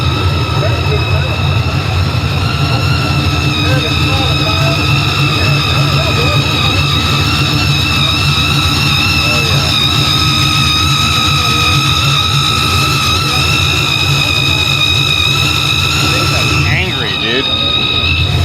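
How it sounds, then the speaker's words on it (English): A supercharged race-style engine at the LS Fest East car show runs and revs hard, a loud sustained mechanical roar with a steady whine on top, close by and nearly constant throughout with crowd noise beneath. "Listen to this Supercharger."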